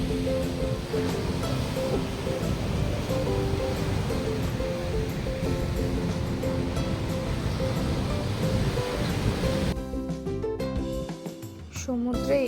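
Sea waves wash onto a Kerala beach on a sunny, breezy day as a steady, loud surf roar that fades out near the end.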